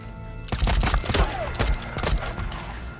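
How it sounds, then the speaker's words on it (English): Gunfire aimed at the player in the video game Days Gone: a burst of sharp, loud shots cracking in quick succession, then more scattered reports over steady background game noise. "Being shot at."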